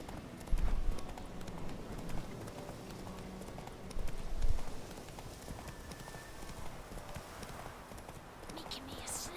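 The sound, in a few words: horse Roach galloping in video game The Witcher 3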